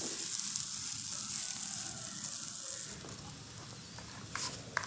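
Roti frying on a hot tava greased with ghee, giving a steady close sizzle and hiss that continues throughout, with no talk.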